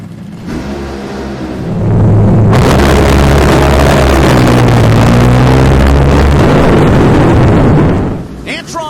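A drag racing car at the U.S. Nationals launches and smokes its tires, a sudden, massive roar that swells after a quieter lead-in and holds at full volume for several seconds before cutting off.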